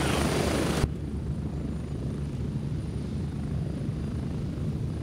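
A helicopter runs steadily close by, its loud rotor and engine drone continuous, with a sharper burst of broadband noise in the first second before the sound settles into a constant roar.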